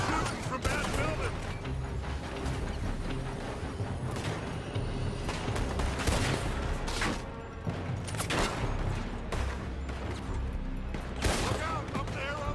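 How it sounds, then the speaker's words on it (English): Heavy gunfire crackles in a dense, continuous barrage during a Red Dead Redemption 2 shootout, with shots coming from a building, booming and layered under game music and effects. "They're shooting from that building."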